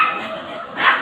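Pomeranian puppies scuffle close by, giving short high yips and whiny barks in a quick burst.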